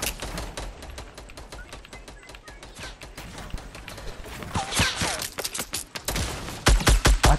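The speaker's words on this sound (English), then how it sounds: "They're shooting at you." Rapid video game gunfire crackles in dense bursts, close and loud, rising to heavy volleys near the end, with no talk over it.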